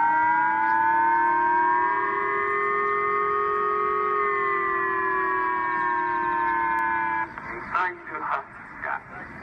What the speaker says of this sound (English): Millions of Japanese woke up to the sound of blaring sirens and emergency phone alerts on Friday